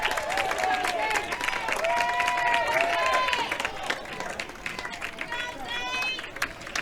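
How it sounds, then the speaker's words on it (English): A high school baseball crowd cheers and applauds steadily as a fly ball to center field is caught for the third out, a broad roar with a commentator's voice running over it. "Zane getting the cheers from the crowd as Goodnight hauls it in."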